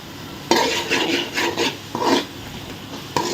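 Masala with salt, cooking for a crab gravy, is stirred in a pan with close, loud rasping spatula scrapes that come in bursts over a light sizzle.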